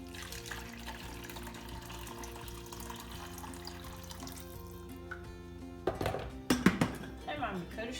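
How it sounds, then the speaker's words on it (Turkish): Hot water poured into a pot of olive-oil stuffed peppers, with a few splashy bursts near the end after a stretch of talk over low kitchen background. "Şöyle bir çay kaşığı dolusu tuz ve şöyle şurasına kadar sıcak suyu ekleyeceğim bunun."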